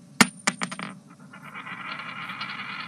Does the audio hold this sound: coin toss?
yes